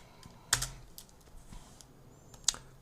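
Keys clatter on a computer keyboard while working in Houdini: two sharp, close clusters of keystrokes separated by softer taps, with no voices.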